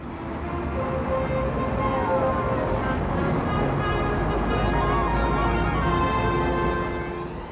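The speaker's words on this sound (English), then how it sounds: "It's jam today and even more jam tomorrow as the traffic builds up." Busy 1964 street traffic on Oxford Street, London, a dense, continuous wash of engines and vehicle noise at moderate volume, steady throughout with no clear speech.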